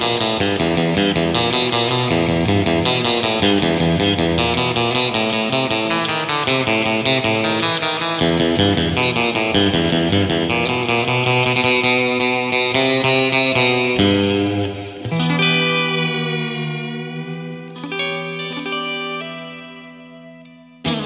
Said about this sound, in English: Straight off the bat, that is a great sounding spring reverb.